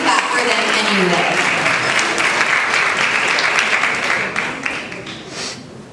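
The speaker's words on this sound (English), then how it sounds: "We could clap for them anyway." At a middle school awards ceremony, a crowd applauds the first place overall winner, NSU University School, with loud, sustained clapping that thins out and fades over the last second or so.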